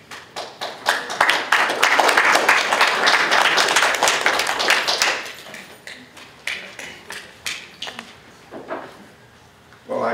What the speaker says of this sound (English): Actually, Laureen deserves a lot more applause